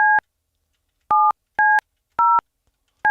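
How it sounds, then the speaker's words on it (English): Telephone keypad tones sound as five short, loud dual-pitched beeps, each a different key, spaced unevenly with silence between them. "You ever notice these are different tones?"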